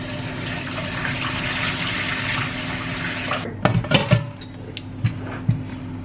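Tap water pours steadily into a sink while rice is rinsed, a broad rushing flow that cuts off abruptly partway, followed by a few clinks and wet handling sounds.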